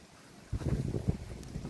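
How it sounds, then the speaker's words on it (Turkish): Wind buffets over a low rumble of moving water, a steady blustery roar that swells after a quiet start. "Su sesi, rüzgar sesi"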